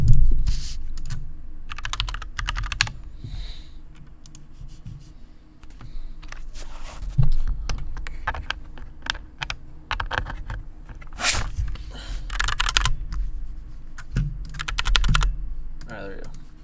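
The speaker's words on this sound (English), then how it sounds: "I'll plug in my keyboard real quick" Clicky computer keyboard typing in rapid bursts throughout, fairly close and moderately loud, with some pauses and background noise during a live trading stream setup.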